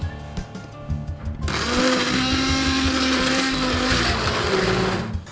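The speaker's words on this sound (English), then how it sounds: "So now the mix has come up to the boil, I'm going to turn it off, then we're going to blitz it up." A kitchen blender blitzes a just-boiled mix for wild boar sandwiches, its motor kicking in abruptly after a moment of quieter noise and whirring loudly and steadily for several seconds before winding down.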